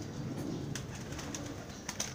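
Homing pigeons at a loft in Salvador give soft, low cooing calls under a quiet ambient background, with a few faint wing or movement sounds.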